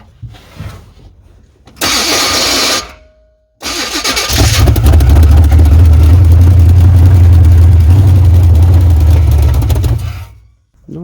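A 383 engine in a C10 truck with a faulty carburetor cranking in bursts, catching, then roaring loud and close into a rough, steady run before cutting off.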